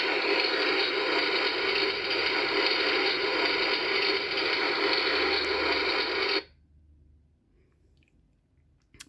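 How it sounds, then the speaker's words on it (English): The button on a 2005 Barbie Totally Real House toy shower sets off its shower sound. Loud, dense hiss like rushing water runs steadily for about six seconds, then cuts off abruptly into near silence. "the little handle that is also a button, and it makes a shower noise"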